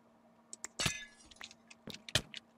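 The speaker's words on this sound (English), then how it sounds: "You smashed a storage crystal and..." Glassy crystal smashing in a Minecraft-style block game, with several bright shattering clinks and cracks in quick bursts, loudest near the middle and end, with no talk.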